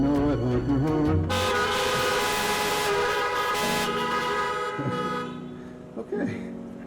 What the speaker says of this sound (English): If you're happy and you know it, honk your horn.